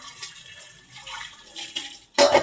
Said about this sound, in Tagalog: Wait lang, patayin ko ulit yung gripo.